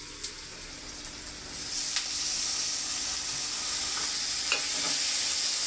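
Chopped tomatoes hitting a hot frying pan already holding browned onions and pink salt, a steady close sizzle and hiss rising and holding, with faint clinks from stirring.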